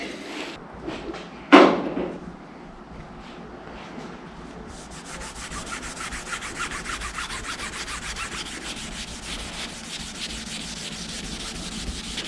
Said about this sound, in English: Just smear it on, rub it in until it dries out, and then move on.